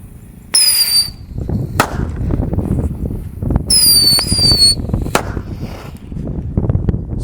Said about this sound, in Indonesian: Dengan mercon tikus santor.